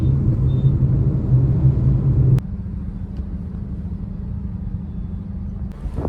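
Road traffic heard from inside a vehicle near Shil Phata, a low steady engine rumble and hum that drops to a quieter idle partway through, with no voices.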